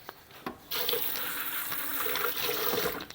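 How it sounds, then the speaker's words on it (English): Tap water runs steadily in a kitchen sink as fresh basil leaves are rinsed beneath it, a close splashing gush starting after a brief handling sound and continuing until it is shut off. "let me rinse off some of these basil leaves here"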